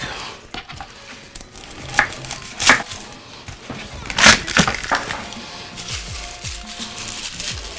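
Garlic cloves chopped with a knife on a board in a home kitchen while cooking Italian meatballs and sausage, a few sharp, irregular knocks and cracks standing out over low kitchen background noise.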